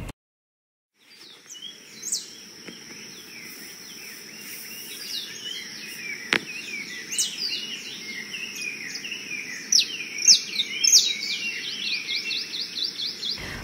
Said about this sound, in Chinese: OK， 这里有小鸟的声音，